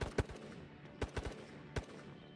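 Unsuppressed gunfire rings out in a raid video game, with three distant bursts of two or three sharp shots each spaced evenly over a quiet background.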